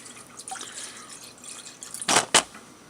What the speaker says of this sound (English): a couple or three drops of whiskey in there.